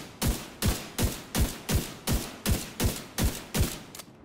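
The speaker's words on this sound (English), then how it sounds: "I'm going to get a full clip here, and then I'm just going to rapid fire, and I'm not going to adjust for the recoil" Rapid rifle fire from The Division 2: about eleven sharp, evenly spaced gunshots in a steady rhythm over four seconds, loud and close, with no voices.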